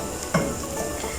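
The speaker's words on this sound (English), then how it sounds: "it is giving a mixed aroma of frying onions and garlic" Onions and garlic sauté in a pan for pizza sauce, a soft steady sizzle with a brief stir or scrape of a utensil near the start, close and fairly quiet with no talking.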